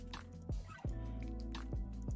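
Water sound effect for a slime game in development: a few drippy, bubbly plops with falling pitch, repeated at irregular intervals over a low steady background tone.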